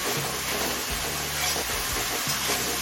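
Ginger garlic paste is sautéed in a pan on high flame, giving a continuous faint hiss of frying with occasional low clinks of stirring underneath.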